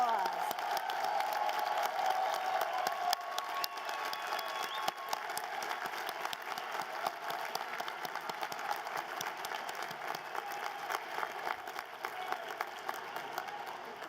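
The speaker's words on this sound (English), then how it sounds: "turn around, face your families, and give them a round of applause." Graduating class at a 2019 university undergraduate commencement applauding their families, sustained crowd clapping from a large audience filling a big hall, steady and moderately distant, with faint cheering and voices underneath.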